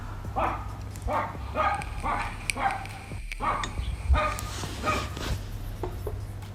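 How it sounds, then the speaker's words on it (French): The neighbours' dog barks repeatedly in a steady, rhythmic series of yapping barks, heard from a moderate distance over a constant low hum. "il va pas se la fermer, le chien des voisins"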